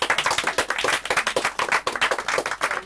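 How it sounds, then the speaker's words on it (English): A small concert audience claps after a performer's set, producing fairly sparse, distinct hand claps in a lively, uneven rhythm that stays close and fills the whole moment. "Can we get a round of applause for her?"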